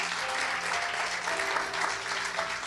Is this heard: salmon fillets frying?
no